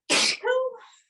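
A single loud, close sneeze from a person fighting a cold in a painting studio, a sharp explosive burst trailing into a short voiced tail.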